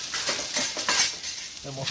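Onions seasoned with salt and pepper sautéing over medium-high heat for a Philly cheesesteak, a steady close sizzle with light stirring and a few soft utensil scrapes, with no talk.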